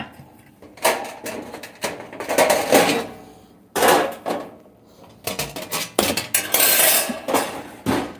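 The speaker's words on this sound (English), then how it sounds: "And then I'm gonna get a pan." Kitchen clatter as a pan is pulled out and handled while cooking beef stew: irregular metallic clanks, knocks and scrapes of cookware in bursts, loud and close, with no one talking.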